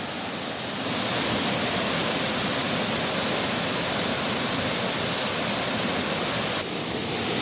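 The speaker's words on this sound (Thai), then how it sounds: "ถ้าตรงไหนสังเกตว่าน้ำไหลแรงเนี่ยมันจะเชี่ยว" Strong, fast-flowing water at Pang Sida waterfall in Sa Kaeo, Thailand, roars as a dense, continuous rush that swells in after a moment and holds steady and close throughout.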